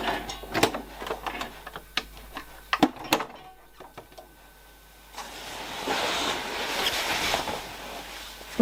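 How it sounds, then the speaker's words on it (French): A sewing machine fitted with a piping presser foot stitches a Burda jacket. Scattered clicks and handling come first, then a steady whirring run of stitching in the second half. "je vais remettre le pied à passepoil. Pour faire la piqûre."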